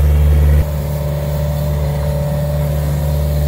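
A Yanmar excavator's diesel engine running steadily at a pond dam repair, a loud continuous low drone that drops slightly in pitch after the first half second, then holds an even idle.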